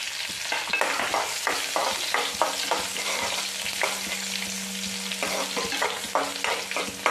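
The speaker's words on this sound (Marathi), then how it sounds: "तर कढीपत्ता टाकल्यानंतर त्याच्यात लसूण ठेचून टाकायची." Crushed garlic fries with curry leaves in a hot pan, making a steady loud sizzle with repeated scraping and stirring strokes close by, and no talking.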